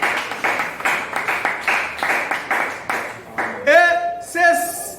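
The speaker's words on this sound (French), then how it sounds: "Donnons une acclamation" A church congregation clapping in rhythmic, evenly spaced claps, fairly loud and close, before a voice breaks in near the end.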